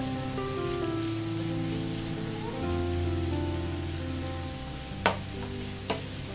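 Sliced onions and three lengthwise-slit green chillies sauté in a pan for Kerala-style beef ularthiyathu, giving a steady sizzle with two sharp spatula knocks near the end; no one speaks.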